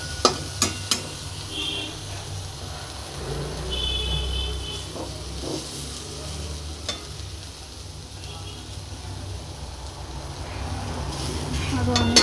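Food frying in a pan at home, a close, continuous soft sizzle with occasional clinks and stirring scrapes, with faint background noise and no clear talk.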